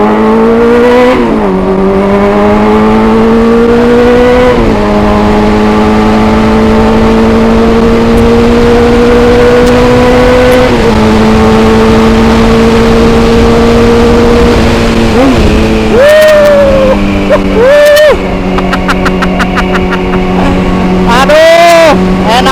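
A big motorcycle engine revs repeatedly, its pitch swelling and dropping in several loud close bursts, with heavier blips near the end, while people talk over it.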